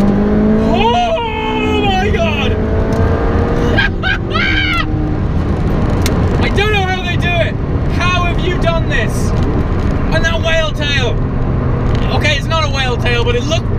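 A McLaren 675 LT sports car accelerates on its first drive, its engine note rising in repeated loud sweeps with gear-change gaps, close and continuous, while people talk excitedly over it.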